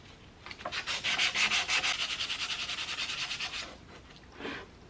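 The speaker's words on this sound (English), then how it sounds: "Let's try with sandpaper." Sandpaper is rubbed back and forth over a rusty antique chip breaker, producing a quick run of rhythmic scratchy strokes up close, then a pause and one last stroke.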